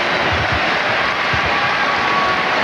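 A Madison Square Garden crowd gives Michael Jordan a sustained ovation during a Bulls–Knicks game, a dense, steady wash of applause and cheering filling the arena with no break.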